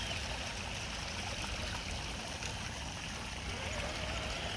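A Traxxas TRX4 RC crawler on stock Canyon tires, in low range with the diffs locked, wades through water at a local water park, giving a steady rushing, splashing wash of water that is close and continuous.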